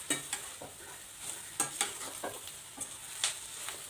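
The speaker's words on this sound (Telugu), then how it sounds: "ఇప్పుడు మిల్ మేకర్స్ వేసేసుకుందాం. కాసేపు ఇలా ఫ్రై చేసుకుందాం." Soya chunks fry in a pan for a vegetarian chicken-style gravy, a soft continuous sizzle with repeated sharp spatula scrapes and taps against the pan as they are stirred.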